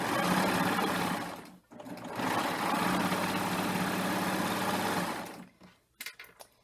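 A serger sewing machine stitches and trims the edge of woven fabric in a fast, steady mechanical whir. It runs in two bursts with a brief pause between them, then stops, leaving a few faint clicks.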